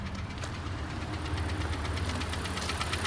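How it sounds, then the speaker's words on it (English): A 2012 Kia Soul engine idles quietly with a light, rapid mechanical ticking running steadily over a low hum, close to the microphone and without talk. "It makes a little ticking noise."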